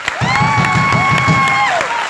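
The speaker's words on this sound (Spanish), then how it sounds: "quiero un aplauso muy grande por todos ustedes que han venido hoy" A large audience in a theater hall for a live show applauds and cheers loudly and continuously, with whoops and shouts over the clapping.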